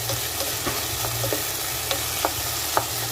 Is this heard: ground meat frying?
yes